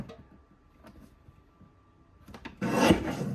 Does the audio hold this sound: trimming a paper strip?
yes